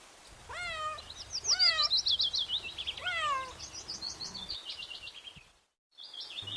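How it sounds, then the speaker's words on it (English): A cat meows several times in a row, clear and close, followed by high bird chirps, then a brief silence before more chirping. "C for cat"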